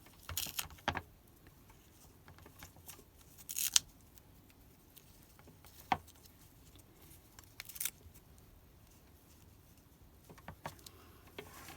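Recycled material is cut into cloud shapes, with sparse, irregular snips and clicks spread across a quiet background. A few sharper cuts stand out near the middle.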